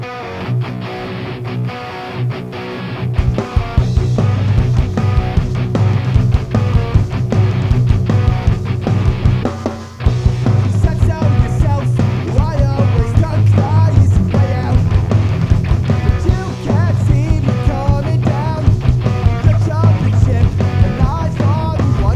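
Dense music processed in Audacity to imitate cassette tape playback, with a steady wash of hiss and a warm, slightly muffled full mix playing continuously and loudly, a brief dip near the middle.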